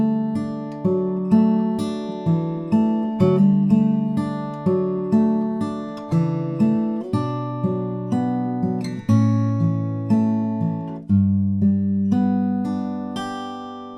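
Fingerpicked guitar intro of a song arrangement, with plucked notes ringing over sustained chords in a steady, gentle rhythm, played alone and up close.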